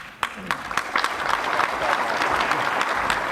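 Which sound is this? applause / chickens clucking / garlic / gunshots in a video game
applause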